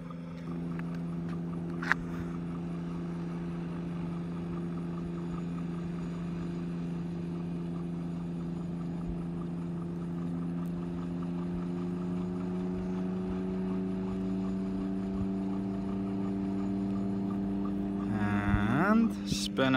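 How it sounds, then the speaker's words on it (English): A Tango 2 gyroplane sits with its engine running and rotor blades spinning up, a steady tonal hum that holds evenly and slowly climbs in pitch, louder near the end. "He's got his blades spun up rather nicely."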